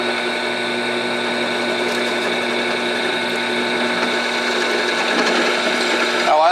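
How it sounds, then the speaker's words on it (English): A step drill from Harbor Freight bores into an aluminum heel guard part for a Yamaha R1 at slow speed, giving a steady, close mechanical whir with a strong tonal hum that runs continuously throughout. "I like to use a slow drill speed."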